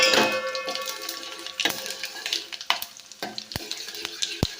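Mustard seeds, urad dal, cumin and chana dal crackle and sizzle in hot oil for a dal tempering, with sharp popping clicks scattered over a steady frying hiss, close and moderately loud.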